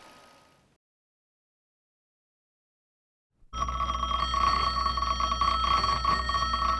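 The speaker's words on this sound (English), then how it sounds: "Somebody answer that phone." An old 1950s telephone bell starts ringing suddenly after a stretch of silence, a loud, continuous metallic jangle that carries on to the end.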